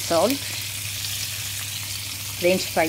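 Chicken frying in a pan, a continuous moderate sizzle with brief bursts of talk at the start and end.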